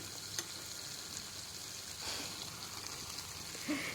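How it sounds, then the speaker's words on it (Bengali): Taro (kochur mukhi) sizzles in a pan while being stirred, a steady soft hiss with faint scraping and occasional light clinks. "আমার কচুর মুখিগুলো আমি আবারও নেড়ে ছেড়ে দিচ্ছি"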